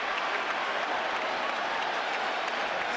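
A boxing arena crowd at the Pacquiao–Cotto fight roars and applauds without pause, a dense, loud wash of cheering and clapping filling the full stretch.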